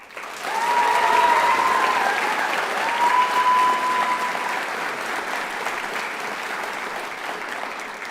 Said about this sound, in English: Please join me in one more round of applause for all the scholarship and award recipients.